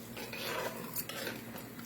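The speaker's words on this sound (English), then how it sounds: "So the mustard oil in the pot, frying up." Mustard oil fries in a pot with a soft, steady sizzle, quiet and continuous, accompanied by faint clinks of a utensil stirring against the metal.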